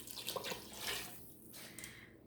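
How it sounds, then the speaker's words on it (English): Broth pours into a pot in a home kitchen, a soft, quiet liquid splash and trickle lasting a couple of seconds with no talking. "I'm going to put 5 cups of broth"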